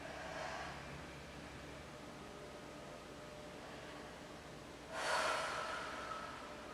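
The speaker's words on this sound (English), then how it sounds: "Breathing deeply." Deep, slow breaths during a Pilates side-bend stretch, a soft airy inhale near the start and a louder, rougher exhale or snort-like breath toward the end, heard alone against faint background hiss.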